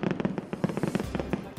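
A fireworks show at a holiday boat parade pops and crackles in rapid, irregular bursts at a moderate distance, forming a steady stream of small bangs.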